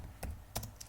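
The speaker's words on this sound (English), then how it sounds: "So I'm typing these things here so that you can read them." A few quick keystrokes tapped on a computer keyboard, soft and close, three separate clicks within under a second with no voices.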